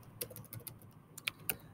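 Typing on a computer keyboard, a short burst of light, close key clicks at an uneven pace, quiet and alone.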